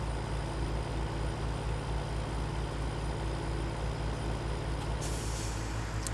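Truck driving slowly through curves in Farming Simulator 17, a continuous loud low engine rumble with a brief hiss near the end, no talk.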